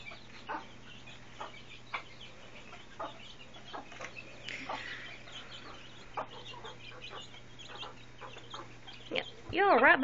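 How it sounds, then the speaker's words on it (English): A mother hen and her chicks cluck softly on a farm, with short, scattered clucks and peeps spread across the stretch over a low steady hum, and a louder burst near the end. "Nothing cuter than a mama hen and her chicks."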